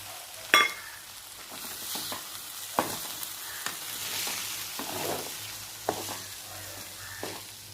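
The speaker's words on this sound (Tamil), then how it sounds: "முட்டையை சேர்த்துட்டு நல்லா பொரிக்கணும்." Egg sizzles and crackles in a hot pan for several seconds, with occasional sharp clicks of a spatula stirring, close and steady.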